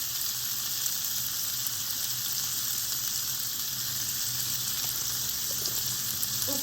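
Tomatoes with salt frying in a pan for tomato garlic chutney, a steady, even sizzle holding at moderate level throughout with no talk over it.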